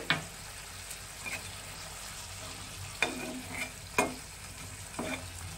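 Sea moorla fish simmering in onion masala with a little water added, giving a soft steady sizzle with a few sharp spoon-stirring clicks and scrapes, close and fairly quiet, no voices.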